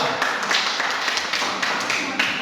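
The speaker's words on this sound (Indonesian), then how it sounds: "Tepuk tangan dulu untuk kelompok" A classroom group claps for presenting students, a brisk, moderately close patter of hands with a few sharper individual claps standing out, fairly even throughout.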